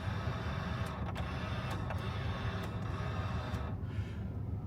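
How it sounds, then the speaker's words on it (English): Power side mirrors on a 1989 Volvo 740 Turbo sedan whirring steadily as they adjust, a continuous mechanical motor drone with a few faint clicks, heard up close with no talking. "We've got mirrors. Kind of noisy. But they are powered and they function."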